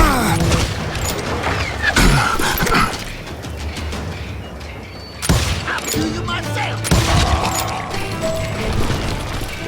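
Repeated gunshots crack through a Call of Juarez: Gunslinger firefight, with bursts of shots, mechanical clicks and booming impacts coming in uneven clusters, loud and close, with a brief lull midway.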